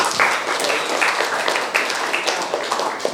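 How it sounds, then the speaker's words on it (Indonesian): A crowd at a youth training seminar applauds Kak Agus with loud, close clapping that comes in uneven swells and small bursts of sharper claps. "tepuk tangan buat Kak Agus"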